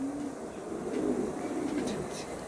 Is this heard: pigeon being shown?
yes